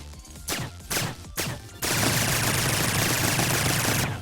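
Suppressed weapon in a video game, first three separate evenly spaced shots, then a sustained rapid burst of fire that runs to the end, loud and close with no talk.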